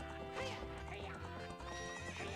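Horse neighing in a race in the video game Zelda: Ocarina of Time, a loud whinny over busy game music with hoofbeat-like clopping throughout.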